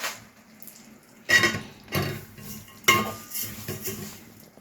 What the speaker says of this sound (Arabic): حطينا سمنه اهي سيحناها، شويه شعريه حلوين